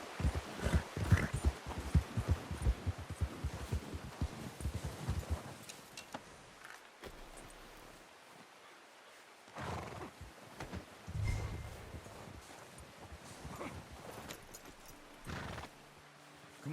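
Horse hooves clip-clop in Red Dead Redemption 2, with whinnies and neighs breaking through, busy and close in the first six seconds, then sparser bursts after a quiet stretch, with game music underneath.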